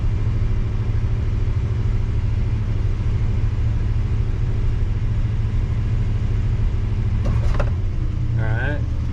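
A parked car with an overheating problem after a cooling-system flush runs with a steady, close engine rumble throughout, then a couple of short sharp clicks and a brief squeal near the end.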